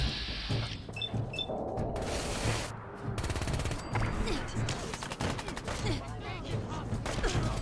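Rapid automatic gunfire from a weapon in the video game Fallout 4 sounds in dense repeated bursts, loud and close, mixed with game effects and a voice speaking over it.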